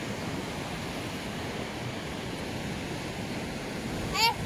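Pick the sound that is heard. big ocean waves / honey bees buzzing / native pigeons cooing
big ocean waves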